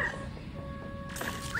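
A cartoonish puppy ghost, Polterpup from Luigi's Mansion 3, yips and barks in short bursts over steady game music, with a voice talking faintly alongside.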